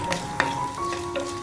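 Mustard seeds, fenugreek and dried chillies sizzle in hot coconut oil, giving a short burst of crackling pops over a faint steady hum.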